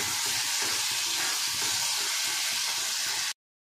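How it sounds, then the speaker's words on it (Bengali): Tomato and spice masala sizzles and hisses steadily in a frying pan with turmeric and chilli powder, a close, constant crackling fry that stops abruptly. "মশলাটা ফ্রাই হয়ে গেছে"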